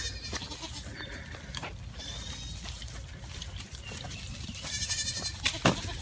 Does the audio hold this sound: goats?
yes